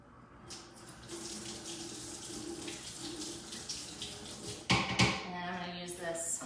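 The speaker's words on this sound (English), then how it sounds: "I'm gonna rinse this off" Water runs steadily from a kitchen tap as something is rinsed off while cooking, a continuous close splashing hiss that turns louder and more broken midway as the item passes under the stream.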